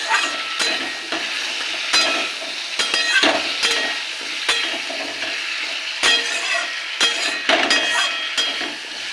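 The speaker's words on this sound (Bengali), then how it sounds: "এবার দিয়ে দেবো সবজি আলু কুমড়ো পটল এগুলোকে একটু ভেজে নেব" Potatoes, pumpkin and pointed gourd fry in hot oil in a pan, a continuous loud sizzle broken by repeated scraping and clanking of a spatula stirring against the pan, with no talk.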